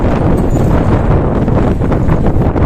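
Strong wind buffets the microphone in a constant loud roar while cycling, with gusty rumbling and no other clear sounds.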